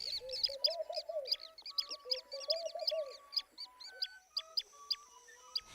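Birds calling in a Ugandan national park, a lively series of repeated sharp chirps and lower warbling calls, close and clear with no talk.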